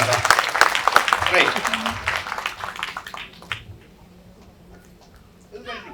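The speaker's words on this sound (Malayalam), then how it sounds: "നല്ലൊരു കൈയടി കൊടുക്കാം എല്ലാവരും നല്ലൊരു കൈയടി" An audience claps for a mentalist's act at a new film's pooja ceremony. The applause is loud at first and thins out over a few seconds to near quiet, with a voice speaking over it and a brief sound at the very end.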